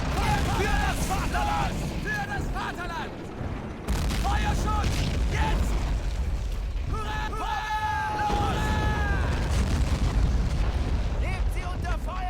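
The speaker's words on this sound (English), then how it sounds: "Finally, that tank's destroyed." A tank is destroyed in the World War II strategy game Men of War: Assault amid booming explosions and mechanical battle noise, loud and continuous, with voices talking over it.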